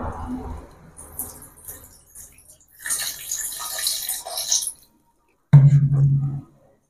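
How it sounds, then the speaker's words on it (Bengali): Kabuli chickpeas being washed in clean water, with splashing and sloshing in several uneven bursts, the loudest near the end, close by and with no voice over it. "এখন এটি ধুয়ে নেব পরিষ্কার জল দিয়ে"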